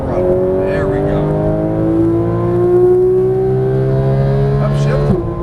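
Porsche 911 GT3 (991) flat-six engine at full throttle, a loud, close, steadily climbing rev with strong harmonic whine, dropping sharply at the end as a voice talks over it.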